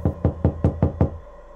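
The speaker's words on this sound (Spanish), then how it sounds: "Lo primero que hicieron fue tocar con los nudillos." Six quick, evenly spaced knuckle raps on an apartment door, close and crisp, followed by a brief quiet pause.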